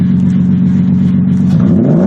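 An old car engine, first run in about 2.5 years, idles loudly and close with a rough, steady hum and a slight lift in revs at the end.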